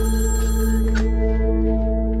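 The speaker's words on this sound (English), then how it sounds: "And of course, the phone rings." A telephone rings at home with a sharp electronic trill that stands out clearly above a steady low hum, loud and near.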